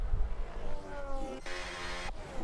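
A Red Bull racing car with a Ford engine in a video game race in Spain revs and shifts, its rising and falling whine sweeping up through the gears in a short, loud burst.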